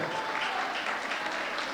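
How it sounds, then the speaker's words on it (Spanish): Applause at the close of a beauty queen coronation in Jutiapa, a crowd clapping for the new queen in a dense, steady wash of claps that holds at an even level throughout. "un aplauso para ella, un aplauso con todo su corazón"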